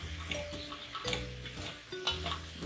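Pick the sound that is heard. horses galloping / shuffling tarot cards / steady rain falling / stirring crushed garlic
stirring crushed garlic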